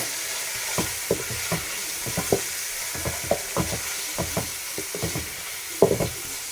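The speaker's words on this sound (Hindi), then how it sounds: "चिकन को हम तब तक पकाएंगे जब तक इसका लाइट ब्राउनी कलर हो जाता।" Small cubes of chicken with a teaspoon of ginger garlic paste fry in a pan, a steady sizzle broken by repeated scraping stirs, close and alone with no talking.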